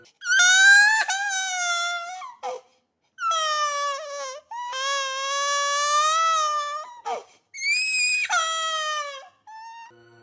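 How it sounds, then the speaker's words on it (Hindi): A newborn baby cries loudly and close, in long wailing bursts broken by short gasping pauses, heard alone with no talk, set in a horror story at the moment of a birth in a household. "तभी अचानक बच्चे की रोने की आवाज से गूंज उठा पूरा घर।"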